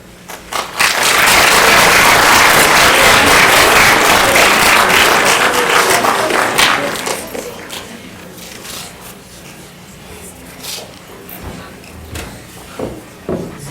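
An audience applauds after a student's capstone presentation, with loud, dense clapping filling the room for about six seconds before fading into scattered claps, shuffling and movement.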